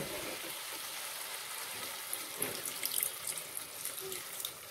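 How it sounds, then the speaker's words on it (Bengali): Water is poured into a pot of Bengali pumpkin dalna as it cooks, a faint steady splashing and trickling with small bubbling sounds, alone and without speech. "একটু জল দিয়ে দেবো।"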